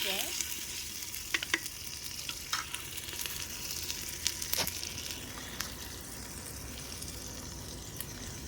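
Mutton and masala fry in a pot with a loud, steady sizzle and crackle that runs throughout, broken by a few sharp ticks of stirring, and no voices.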